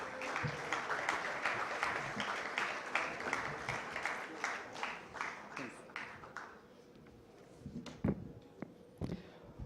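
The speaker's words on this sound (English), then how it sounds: "Let's welcome him with a huge round of applause" Audience applause for a guest welcomed on stage at a congress in New Delhi, a dense crowd clapping that starts loud and thins into scattered claps toward the end, with a faint voice underneath.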